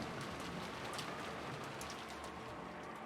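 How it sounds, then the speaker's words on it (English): Steady rain falls throughout a scene in the Umineko visual novel, a dense continuous patter on surfaces around a gazebo, even and unbroken with no voices. "George and Shannon talking in the rain in the gazebo"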